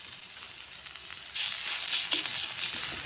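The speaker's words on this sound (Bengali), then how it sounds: "পেঁয়াজ দিয়ে হালকা নেড়ে চেড়ে দিয়ে দেব রসুন বাটা" Garlic paste and chopped onion frying in a little oil in a pan for a village-style small fish (mourola) curry, giving a steady close hiss and sizzle that grows louder partway through, with faint stirring and no talking.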